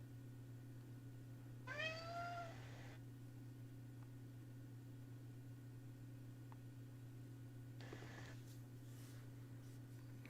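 A cat gives a single rising, tonal meow close by over a steady electrical hum in a room, followed by a fainter, shorter second call several seconds later.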